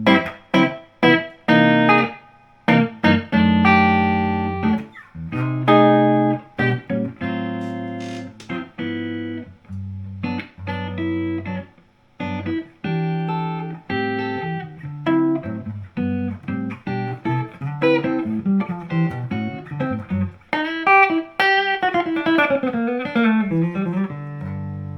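An electric guitar played through an amplifier with the reverb set about halfway: clean single notes and chords picked near and loud, each tail ringing briefly into the next.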